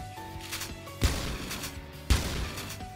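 Shotgun fire in the video game Phantom Forces: two heavy, booming shots about a second apart, each with a sharp crack and a decaying tail, over a low background of game music and ambience.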